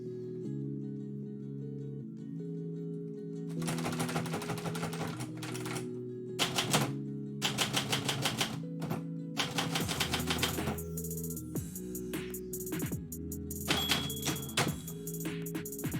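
Typewriter keys clatter in quick bursts, separated by pauses, over a steady low instrumental music bed, with carriage-return thunks and a bell ding near the end.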